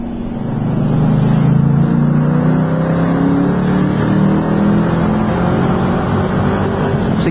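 Works-prepared Ford Falcon GTHO Phase 4 race car with a cammed engine on a racetrack, loud and close, its engine note climbing steadily under hard acceleration and holding a sustained high-rev roar with no talk.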